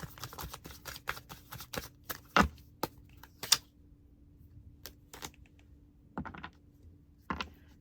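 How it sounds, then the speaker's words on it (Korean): Tarot message cards being shuffled and drawn, heard as a run of quick papery riffles and taps, then sparser single card snaps and flicks with quiet gaps between them, close by and with no talking. "메시지 카드 뽑아볼게요"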